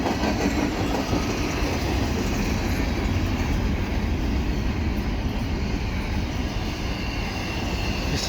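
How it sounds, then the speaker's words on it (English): A CPKC eastbound freight train with several Canadian Pacific and Kansas City Southern locomotives passing close by in Dorval near Cardinal Avenue, a loud, steady rumble of rail wagons with clickety-clack lasting throughout, with no voices. "This is eastbound freight, and it had a couple of locomotives on there, Canadian Pacific and Kansas City Southern."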